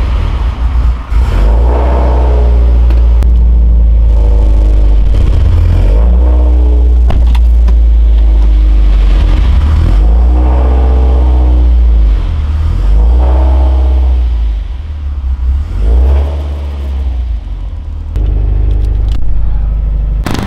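A Subaru STI with oversized injectors and a loud aftermarket exhaust revs repeatedly, deep engine swells rising and falling with crackling pops between pulls, close and very loud, with occasional voices underneath.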